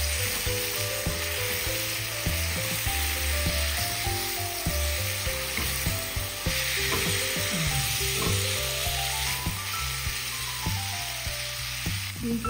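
Ginger garlic paste is stirred into mutton biryani in a pot over a continuous loud sizzle. Steady tonal music plays over it, and scraping sounds stay faint underneath.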